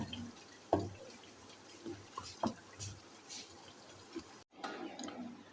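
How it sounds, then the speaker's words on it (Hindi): Water is poured into a pot of chicken nihari gravy while the meat cooks, with faint splashing and a few small clinks against the pot in a quiet kitchen. "मैंने अब गोश्त गल जाए थोड़ा ग्रेवी के लिए पानी लगाया है।"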